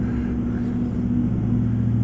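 Truck engine in American Truck Simulator, a loud, steady low drone with a firm, even hum and no clear rise in pitch, heard alone without voices.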